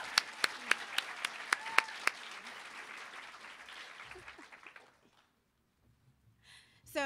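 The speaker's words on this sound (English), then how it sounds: "Let's get another round of applause for our panelists on the stage right now." Audience at a general assembly applauds panelists on stage, sharp distinct claps over a broad clapping wash that fades out after about four seconds, leaving near silence and a faint voice at the end.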